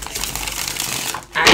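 A short riffle of tarot cards being shuffled during a reading, a dry flurry of flicking after a brief murmur of room noise.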